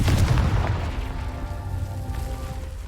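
The Confringo spell in Hogwarts Legacy sets off an explosion, a heavy booming blast at the start that fades into a rumbling decay.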